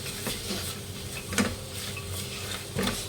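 Vegetable biryani masala frying in a pan, a low steady sizzle broken by a few clinks and scrapes of a spoon stirring against the metal, close and without talk.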